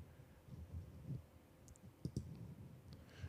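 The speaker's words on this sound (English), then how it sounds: "you get to hear the clicking of the keyboard" A computer keyboard clicks during a podcast recording, a few faint, sharp taps scattered over a low background rumble.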